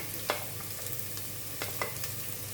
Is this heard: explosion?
no